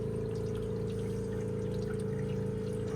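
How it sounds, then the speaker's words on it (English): Water fills a grey tank mounted under a Ford Transit van and runs steadily through its drain while a pump hums loudly and continuously alongside the flowing stream, with no voices. "You can see the water running through the drain there."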